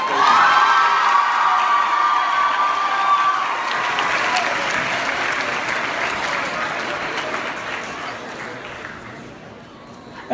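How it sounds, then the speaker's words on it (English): Loud applause and cheering from a high school crowd during a Swag Week reveal, with whoops and children shouting over sustained clapping that gradually tapers off. "Let's everybody one more round of applause."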